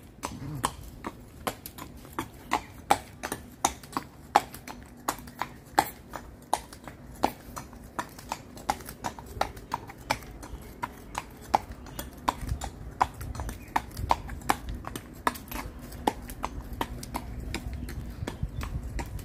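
Horse hooves clip-clop at a steady walking rhythm on a sunrise ride at Seminyak Beach in Bali, close and clear, continuing evenly throughout with faint background noise.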